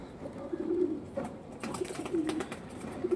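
Pigeons at a Bengal pigeon fancier's loft give repeated low, throaty coos in short bursts, close by and fairly soft, with no talking.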